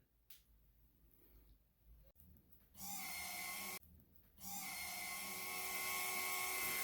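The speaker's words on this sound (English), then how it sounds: "Just riding my new lathe." A Rikon 70-3040 wood lathe spins up into a loud, steady high-pitched whine, cuts out briefly, then starts again and runs on, after quiet rustling at the start.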